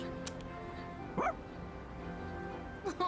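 A dog in the video game Persona 3 Reload gives a single short bark, followed by a second softer yip near the end, over quiet in-game background music.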